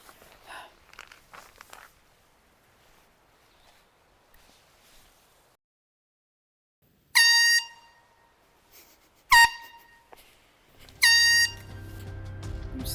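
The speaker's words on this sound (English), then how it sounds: "Maybe if I use the air horn, it'll scare them away." An air horn is blown on a forest trail in the Great Smoky Mountains to scare off animals, giving three loud, harsh blasts at intervals after quiet footsteps and rustling.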